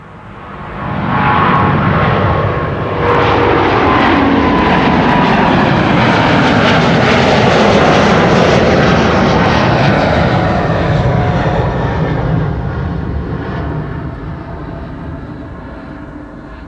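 A KLM Boeing 777-200 bound for Rio de Janeiro takes off from Schiphol runway 24, the Kaagbaan, its jet engines building quickly to a loud, broad roar that holds steady, then slowly fades as it climbs away.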